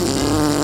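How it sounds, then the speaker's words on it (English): A cartoon fart, a single loud, low, buzzing bottom burp lasting under a second, with no talk over it. "Bottom burp blast."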